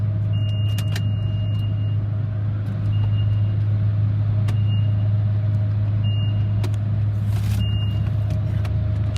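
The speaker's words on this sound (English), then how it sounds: "Now we can go ahead with the dryers." Blowers of an older LaserWash 4000 touchless car wash at a Husky station in Newmarket, a loud, steady roar over a deep constant hum, with faint intermittent clicks and whines.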